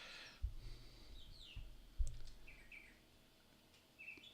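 A bird chirps faintly in short, scattered high calls amid soft clicks and low thumps, quiet and at a distance, with no talking.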